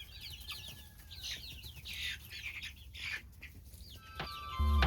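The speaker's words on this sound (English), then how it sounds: "I'm giving the school project chicks their very first taste of mealworm, beetles, and seeds." Young school-project chicks peep and chirp repeatedly while pecking at mealworms, beetles and seeds, a string of high thin calls close by over a low background rumble, ending with a brief louder thump.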